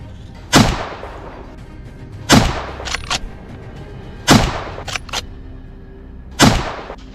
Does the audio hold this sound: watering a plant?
no